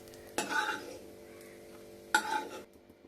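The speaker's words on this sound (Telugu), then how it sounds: "స్టవ్ మీద పాన్ పెట్టుకుని నెయ్యి వేసి వేడయ్యాక జీడిపప్పులు బాదం పప్పులు వేసుకుని బాగా వేగించుకుని పక్కన పెట్టుకోండి." Cashews and almonds frying in hot ghee in a pan on a stove, heard as two short bursts of stirring and sizzling separated by a quieter low hiss.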